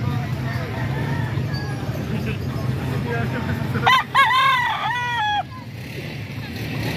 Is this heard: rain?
no